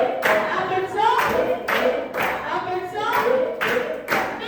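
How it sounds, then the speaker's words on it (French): A congregation claps steadily and loudly throughout a praise and worship service in Dakar, the rhythmic applause dense and continuous with a few voices mixed in. "Applaudissons! Applaudissons!"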